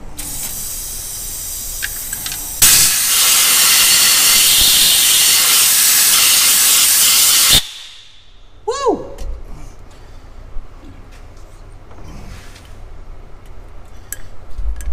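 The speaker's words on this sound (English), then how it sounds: "let's clean out these holes with a little brake clean" Brake cleaner sprays in a loud, steady hiss for about five seconds into holes on an N14 Cummins engine in a shop, ending abruptly, followed by clanks and handling noises.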